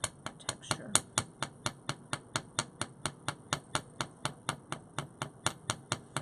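A chasing hammer strikes a forged metal earring loop on a hard surface in a steady, even rhythm of about twenty sharp metallic taps, close and clear, with faint voices underneath.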